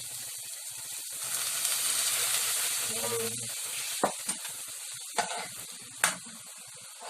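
Water poured into a hot pan of frying fish fillets sets off a loud, steady sizzle that swells and keeps hissing, with a few sharp clinks and scrapes near the end.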